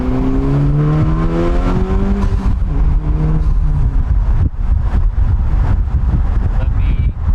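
FL5 Civic Type R driven with windows down, engine droning and rising then falling as it shifts, with rough crackling exhaust pops on downshifts amid heavy wind buffeting, heard from inside the cabin.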